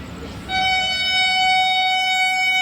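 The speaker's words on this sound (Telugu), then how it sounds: "వస్తుంది చూడండి వందే భారత్." A Vande Bharat train on the Tirupati to Secunderabad run sounds a loud, sustained horn that cuts in suddenly and holds one steady, bright tone, close by at a station.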